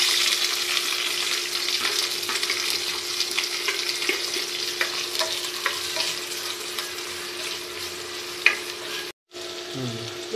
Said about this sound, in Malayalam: അതിലേക്ക് ഇഞ്ചി, പച്ചമുളക്, ചെറിയുള്ളി, സവാള, വെളുത്തുള്ളി എല്ലാം കൂടി ഇട്ട് മൂപ്പിക്കാൻ പോവാം